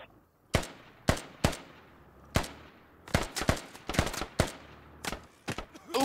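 Gunfire rings out in a squad-based military shooter game, with sharp, loud individual shots spaced unevenly, then a rapid cluster of bursts in the middle and a few more cracks near the end.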